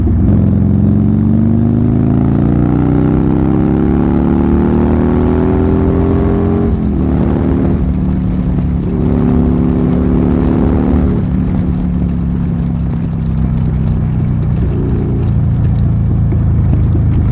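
A Buell Lightning XB12S motorcycle accelerates hard, its engine note rising steadily through the gears with a brief dip at each shift, loud and close with no talking.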